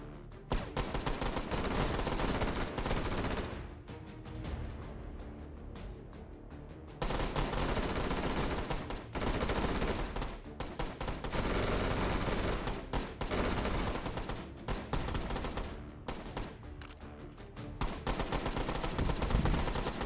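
Rapid video game gunfire in H3VR, fired from drum-magazine weapons, comes in long, loud sustained bursts broken by short pauses across the whole stretch.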